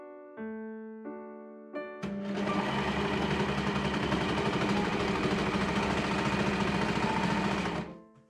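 An overlock serger sewing a sweatshirt seam, starting with a few short bursts, then settling into a steady close whirring hum for about six seconds before stopping.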